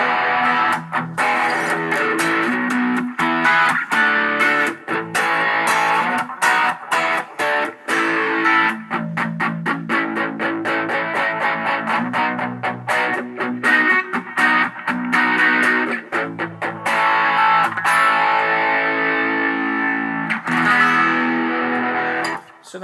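An electric guitar plays through a Behringer PH-9 phaser pedal and a Hot Rod distortion, a loud, steady run of distorted chords and picked notes with a sweeping, swirling tone, without any talking.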